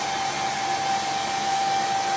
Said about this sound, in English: Now I'm going to blast this with the dryer again really quick. Get this nice and dry.